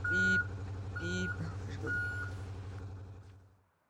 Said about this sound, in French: Allez recule. Bip, bip, bip, bip, bip.